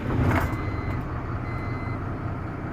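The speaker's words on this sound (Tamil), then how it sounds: "எப்போவுமே இந்த சென்சார் சவுண்டு ஒரு 3 சவுண்டு வந்து முடிஞ்சதுக்கப்புறம் தான் வண்டி ஸ்டார்ட் பண்ணணும்." Sensor beeps sound on a truck before its engine is started, heard up close over a steady low rumble, with no talk.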